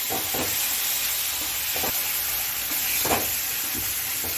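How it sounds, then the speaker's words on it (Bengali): Onion paste with sugar fries in a pan, giving a dense, constant hiss of sizzling oil, with a few soft stirring knocks breaking through now and then. "পেঁয়াজ বাটা এর মধ্যে দিয়ে দেবো চিনি দেবো এটাকে একটু কষে নিয়ে"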